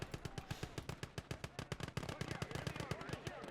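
Rapid gunfire and artillery shell impacts from the WW2 real-time strategy game Gates of Hell, a dense, continuous rattle of sharp bursts with no pause, fairly quiet overall.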